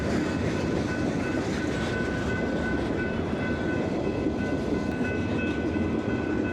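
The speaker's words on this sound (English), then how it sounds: "the train is pretty loud" A loud train rolls past close by at a railroad crossing, a dense steady rumble of rail cars with no break and no voices over it.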